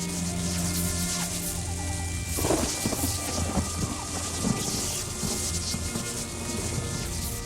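Thunderstorm in The Elder Scrolls Online, steady heavy rain hissing throughout with a loud rolling thunder rumble building in the middle, loud and continuous.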